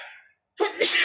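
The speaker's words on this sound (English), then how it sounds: "I sneezed at the right time." A single sharp human sneeze bursts out after a short trailing sound and brief silence, loud and close.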